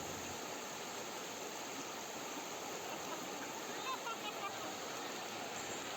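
Flood water rushing steadily around Girikanpalli village and across its road, a dense, continuous wash that stays loud and unbroken throughout.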